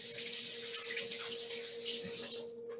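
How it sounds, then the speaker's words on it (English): A kitchen tap runs steadily while hands are rinsed under it during baking, a close, continuous rushing hiss of water that tapers slightly at the end. "rinse my hands here."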